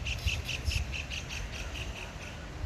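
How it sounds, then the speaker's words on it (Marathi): Birds squawk and call in a steady repeated series near a beach hotel in Malvan, with regular bright chirping bursts over low background noise and no talking. "किती छान पक्ष्यांचे आवाज"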